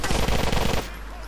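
Rapid automatic gunfire in Grand Theft Auto IV, a dense burst of shots lasting under a second, then cutting off into quieter game ambience.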